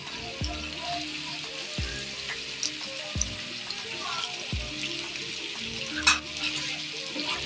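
Chicken sizzles in oil for a Lahori chicken karahi while being stirred with ginger-garlic paste; a steady frying hiss runs throughout, broken by regular scraping stir strokes about every second and a half.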